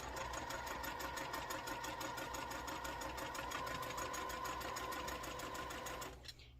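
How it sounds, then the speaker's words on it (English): Sewing machine stitching a long seam on stretchy fabric for a Kentucky Chain quilt sampler block, a fast rhythmic close chatter running steadily and stopping near the end. "And just sew all the way down."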